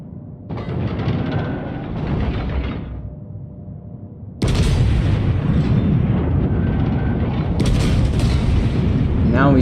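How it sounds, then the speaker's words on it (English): An enemy battleship blows up in World of Warships, a deep heavy boom that breaks in abruptly and rolls on loudly with rumbling blasts, following a quieter stretch of battle noise. "Enemy battleship destroyed."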